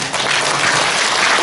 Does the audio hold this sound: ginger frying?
no